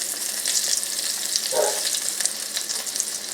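Pork chops fry steadily in a pan, a dense, continuous sizzle and crackle with a brief softer bubbling swell midway, close and alone without talk.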